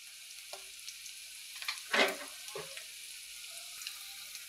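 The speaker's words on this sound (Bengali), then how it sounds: "এদিকে দেখো আমার এই যে লটকা মাছের পেঁয়াজগুলা অলরেডি ভাজা হয়ে গেছে" Onions and spices sizzle softly in a pan for a loitta fish curry, a low steady frying hiss with a few scraping stirs and one louder clatter midway; no talking.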